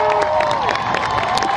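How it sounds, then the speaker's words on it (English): At a high school graduation commencement, the audience in the hall gives a brief burst of continuous applause mixed with cheering and whoops for students enlisting in the military, dense and sustained throughout. "Can we give them a nice round of applause?"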